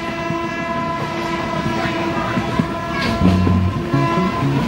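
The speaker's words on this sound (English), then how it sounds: "I headed north on a 5-day train" Indian passenger train on a five-day northbound journey, a steady rumble of rolling wagons with tonal horn blasts sounding near the end, loud and continuous with no talk.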